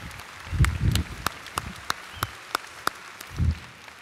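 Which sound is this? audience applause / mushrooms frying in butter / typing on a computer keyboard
audience applause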